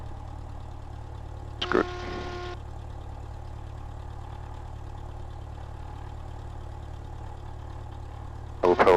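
A Cessna 172 engine holds a steady low idle at 1,000 RPM during a pre-solo check on a grass-edged runway, droning continuously with brief radio or voice bursts over it.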